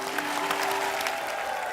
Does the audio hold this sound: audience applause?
yes